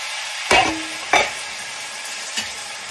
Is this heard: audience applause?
no